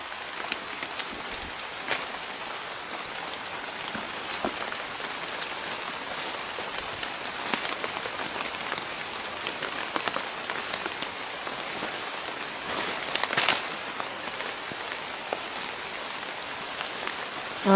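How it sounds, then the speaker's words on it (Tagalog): Heavy rain pours steadily onto surfaces outside a house, a dense continuous hiss with scattered sharper drops and splashes throughout, loud and unbroken with no talking. "Oh my god, ulan ng lakas."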